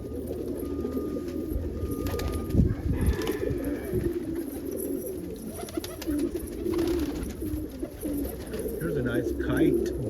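Almond homer pigeons, cocks and hens, cooing in a loft on a warm afternoon, with low repeated coos and some wing flutters close by while someone talks over them.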